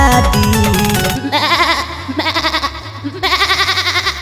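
Goat bleats ring out repeatedly over a loud Bhojpuri Chhath song with strong beat, the wavering cries recurring in rhythmic bursts throughout the music.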